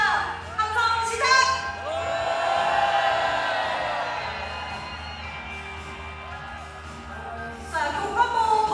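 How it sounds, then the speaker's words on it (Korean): Crowd of teachers at a nationwide rally for teachers' rights in Korea, shouting together in a swelling wave: a loud, sustained roar that builds, holds for several seconds and fades, with scattered whoops and shouts at the start and end. "파란색 파도 출발합니다. 함성 시작!"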